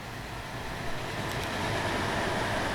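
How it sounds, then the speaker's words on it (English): Trains running in the Transport Fever 2 video game, a continuous rolling rail rumble with steady mechanical noise, moderately loud throughout with no talking. "That train's on its way."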